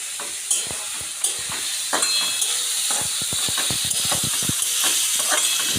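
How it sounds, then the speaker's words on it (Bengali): Bean seeds tossed into spiced masala in a pan for a shrimp and bean-seed curry, frying with a steady close sizzle while a spoon scrapes and clicks against the pan in quick irregular strokes, no voices. "এবার এর মধ্যে এই সিমের বীজগুলো দিয়ে দেবো"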